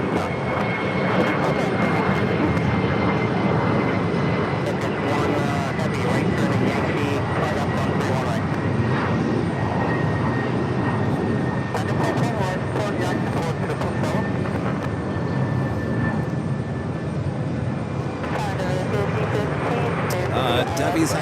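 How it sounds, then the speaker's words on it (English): An Aer Lingus Airbus A330-300 taxis toward its takeoff at JFK, with a steady loud engine roar and a high whine running throughout, under continuous talk. "an Air Lingus Flight 104 heading to Dublin. A330-300 also making its way down for a takeoff on 4 left"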